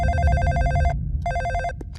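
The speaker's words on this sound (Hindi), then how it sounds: "फोन मेरे लिए है।" A telephone bell rings in two bursts with a short pause between, loud and close, followed by a couple of faint clicks.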